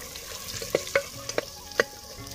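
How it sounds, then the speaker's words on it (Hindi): Bay leaf, cardamom, asafoetida, dried chilli, crushed garlic and ginger dropped into hot oil in a clay pot, giving a soft steady sizzle broken by several sharp crackles and pops as the spices hit the oil, fairly close and without talk. "तेल गर्म हो गया, डालेंगे इसमें तेज पत्ता, दो इलायची, हींग, सूखा मिर्चा, लहसुन"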